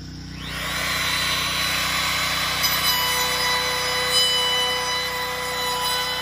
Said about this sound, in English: I probably want to take the router up a smidge